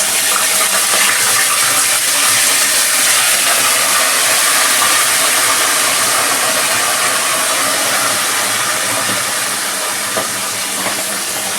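Soaked asafoetida water goes into a hot cooking pan for a no-onion, no-garlic vegetarian Bengali curry, setting off a loud, steady hiss and sizzle that lasts throughout with no voices.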